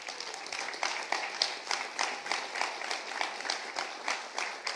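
A church congregation applauds during a sermon, a rapid, even run of many hands clapping at moderate volume that continues steadily throughout without talk.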